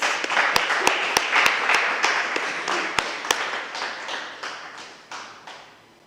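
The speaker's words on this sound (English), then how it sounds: "Round of applause, if you please." Audience applauds speakers at a panel event, a steady round of clapping with a few sharp, close claps standing out, fading gradually toward the end.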